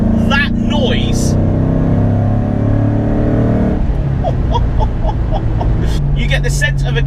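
A Ford Mustang Bullet tribute car, an American muscle car driven in the UK, gives a steady, deep engine rumble throughout, with a voice talking over it for most of the stretch.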